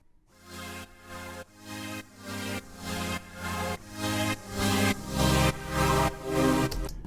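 Cyberpunk-style chords played on the Strong Contender synth preset from the Synth Control Cyberpunk pack, a rhythmic series of bright, buzzy sustained stabs roughly twice per second, building in loudness toward the end.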